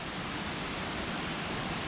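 Little Zigzag Falls, a forest waterfall with fallen timber diverting its flow, pours in a steady, dense broadband rush, close and unbroken throughout.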